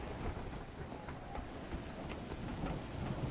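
Steady rain with low thunder rumbling in the game The Last Caretaker, a dense continuous wash of falling water, fairly faint and unbroken, no voices.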